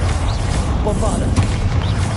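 A Bombarda blast erupts in Hogwarts Legacy, a heavy booming explosion layered over constant combat clamor and scattered impacts.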